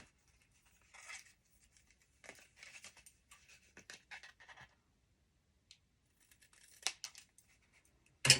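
Quiet, close crisp snips and rustles of scissors cutting paper for a birthday card, in short scattered bursts separated by pauses, ending with a sharper crinkle.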